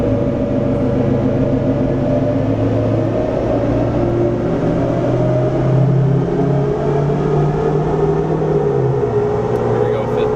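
A tuned L5P Duramax diesel truck engine runs loud and steady under load on a dyno in 5th gear, a continuous deep drone with a slowly rising pitch through the pull and voices partly masked beneath it.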